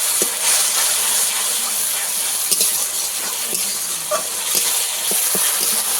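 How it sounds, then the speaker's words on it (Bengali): Tomatoes, ginger, garlic, onion and spices frying in a pan for pomfret curry: a steady loud sizzle with occasional stirring clinks, close up, no talking. "টমেটো দিয়ে দিয়েছি কিছুক্ষণ ভালো করে ভেজে নেব"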